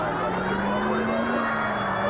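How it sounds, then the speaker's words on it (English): A police car siren in the video game L.A. Noire wails continuously with a steady, slowly rising tone over a low vehicle hum. "turning the siren on."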